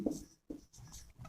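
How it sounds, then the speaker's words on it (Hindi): Writing on a board during a chemistry lesson: two or three faint, scratchy strokes separated by short pauses, with no speech. "इसको लिख देता हूं मैं"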